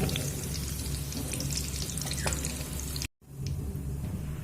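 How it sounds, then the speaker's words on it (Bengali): Whole cumin seeds and dried red chilies sizzle in hot oil in a pan, a dense continuous crackle heard close, with a brief dropout partway through. "একই তেলের মধ্যে ফোড়নে দিয়েছি গোটা জিরে আর শুকনো লঙ্কা"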